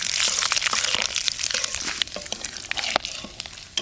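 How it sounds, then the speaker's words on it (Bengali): Bay leaf, dried red chilli and cumin seeds hit hot leftover fish-frying oil, giving a loud, close sizzle full of sharp crackles and pops that fade into sparser spits, with no voices. "মাছ ভাজার তেলে ফোড়নে দেব তেজপাতা,"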